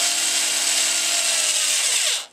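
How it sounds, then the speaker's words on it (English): A power drill whirs steadily at full speed with its bit snagging and grinding against fabric, a loud, dense, continuous buzz close up that cuts off abruptly near the end. "because of the way a drill bit is made, it will snag on this fabric."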